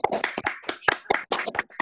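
Participants in an online meeting clap, a quick run of about a dozen uneven claps and taps heard through a call connection, close and choppy.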